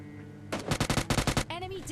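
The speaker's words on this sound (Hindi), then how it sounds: "अब एक बंदा और भी यहाँ पे बोट फायरिंग करता है" Bots in PUBG Mobile Lite open fire with a rapid automatic burst of about eight sharp, loud shots, followed by a short ringing tail.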